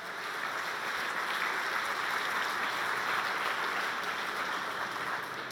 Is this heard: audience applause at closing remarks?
yes